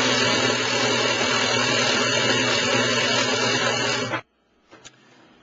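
A Consew 206RB industrial sewing machine winding a bobbin gives a steady, loud mechanical motor whir with a hum for about four seconds, then stops abruptly, followed by a brief soft clunk.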